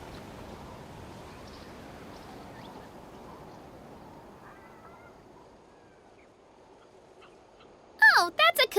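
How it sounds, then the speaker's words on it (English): A cuckoo soar bird creature from Genshin Impact lets out a burst of loud, warbling, squawking calls near the end, after several seconds of faint, low ambient game hum. "Oh, that's a cuckoo soar. They fly high and fast, and they're always full of energy."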